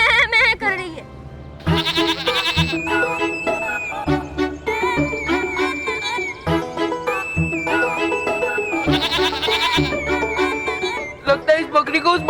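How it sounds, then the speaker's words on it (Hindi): A goat bleats repeatedly in a TV fantasy show scene, its wavering cries layered over a busy music track and sound effects, fairly loud and continuous throughout. "बकरी उसके जैसे मैं कर रही है"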